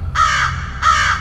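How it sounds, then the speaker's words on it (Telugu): A crow caws twice in quick succession, two loud, close, harsh calls with a short gap between them and no other sound. "పాండిచేరిలో కాకి ఎలా అరుస్తుందన్నా"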